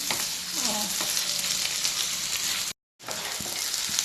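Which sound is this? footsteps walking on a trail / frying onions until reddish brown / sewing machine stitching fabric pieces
frying onions until reddish brown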